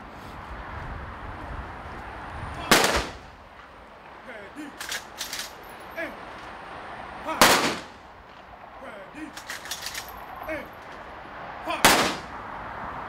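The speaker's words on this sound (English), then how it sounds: "Sergeant Dixon, fire the volley." Three sharp ceremonial rifle volleys fired at an outdoor memorial service, evenly spaced about four to five seconds apart, each a loud crack with a short echo, with faint murmurs and quieter sounds in between.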